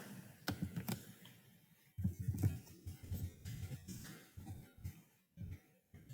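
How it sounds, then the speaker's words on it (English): Typing on a computer keyboard, heard as close bursts of irregular clicking keystrokes with short pauses between runs, plus a cough or throat sound near the start. "You see what I'm typing in?"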